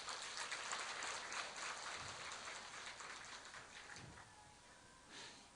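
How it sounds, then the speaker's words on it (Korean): A church congregation applauds during a Korean worship service, a dense, even patter of many hands that stays faint and distant and slowly thins out, with no talking. "박수 한번 쳐줍시다."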